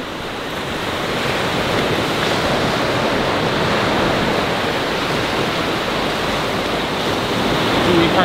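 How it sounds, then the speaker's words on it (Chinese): Strong ocean waves roll onto the coast as a loud, continuous roaring surf, broad and steady, with some wind noise and no clear breaks between swells. "今天海浪很大"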